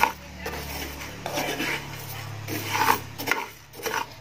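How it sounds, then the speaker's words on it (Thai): Rice grains, including weevil-damaged old rice, being dry-roasted in a pan until golden, scraping and rattling with a steady rhythm of utensil strokes over a low hum. "เราก็คั่วข้าวของเรานะคะ โดยไฟนะคะให ้ประมาณนี้แล้วก็ให้ข้าวของเราเนี่ยนะคะเหลืองนะคะ"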